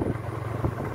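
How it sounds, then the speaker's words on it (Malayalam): Cold wind gusts across an open microphone at Chimmini dam in Kerala, a steady low, rumbling buffet that runs without a break for under a second, with no voices. "ഒരു അത്യാവശ്യം നല്ല തണവ് കാറ്റുണ്ട്."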